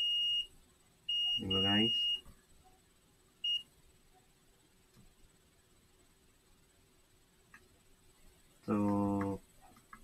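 Lenovo T430 laptop with a dim-light fault gives short electronic beeps from a multimeter in beep mode testing for a short, a steep tone pair early on and again near the end, with a brief chirp between and faint room noise and speech.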